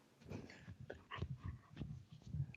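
A dog whimpers and whines in a string of short, breathy bursts with snorts and panting, fairly close and moderately loud, with no talking.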